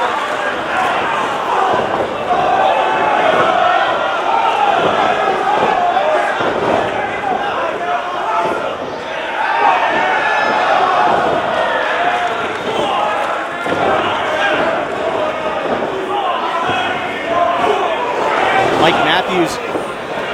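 Crowd at an All Pro Wrestling battle royal roars loudly and continuously, a dense sustained wall of cheering and shouting with scattered impacts, no clear single voice standing out.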